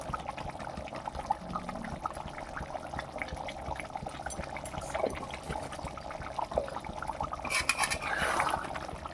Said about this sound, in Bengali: বেশ ভালো করে একটু নাড়ি চাড়িয়ে নিচ্ছি